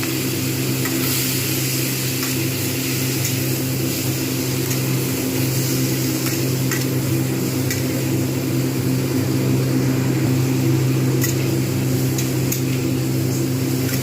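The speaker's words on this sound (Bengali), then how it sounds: "কড়াতে সয়াবিন অয়েল দিয়ে দিয়েছি। চিংড়িটাকে আমি প্রথমে ভেজে নেবো ভালো করে।" Prawns fry in soybean oil in a wok with a steady, broadband sizzle and scattered crackling pops over a low background hum, with no talking.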